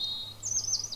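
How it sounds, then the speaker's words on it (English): A robin sings from a tree in the distance on a woodland walk at Longridge Fell. A single short, high chirping phrase stands alone against quiet background air. "In the distance there's a robin singing in the tree."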